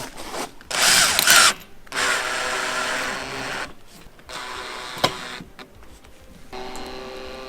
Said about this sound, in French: D'où l'intérêt d'une visseuse qui fait pas on-off simplement direct